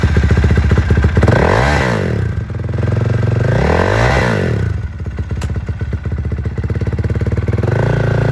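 A used 2019 Honda CRF450R off-road dirt bike runs close by, idling with a rough, rapid thump and rising twice into loud revs that fall back before it settles into a clattering idle.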